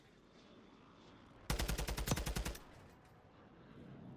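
Rapid automatic gunfire in the Warzone video game, a single loud burst of about a dozen closely spaced shots lasting around a second, standing out sharply over quiet background ambience.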